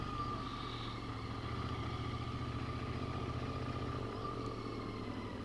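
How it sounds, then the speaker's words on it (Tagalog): Motorcycle engines rumble on a winding mountain road in Malico, San Nicolas, Pangasinan, a steady mid-pitched drone with a faint rising whine near the end, fairly close and continuous without speech. "Ganda ng mga motor."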